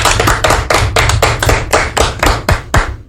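Radio studio audience claps for the station technician, a dense run of fairly close rhythmic clapping that keeps a steady pulse for about three seconds.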